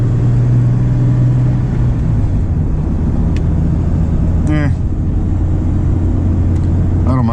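An original power steering pump on an OBS Ford Bronco gives a steady mechanical whine and hum under a loud idling engine rumble, close and continuous, with a person talking over it.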